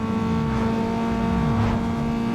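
Loud, steady engine drone of a Mitsubishi Evo in a racing video game, held high and constant with slight rises in pitch as the car pushes on.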